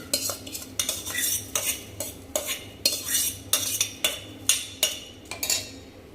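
Soaked khichdi added to a pot and stirred: a run of sharp, regular metal spoon clinks and scrapes against the pot, close and fairly loud, with no speech.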